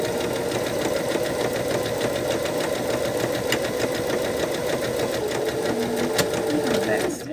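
A sewing machine hums and chatters steadily while stitching a Johnnie B bag, running continuously at close range for the whole stretch with a faint voice underneath.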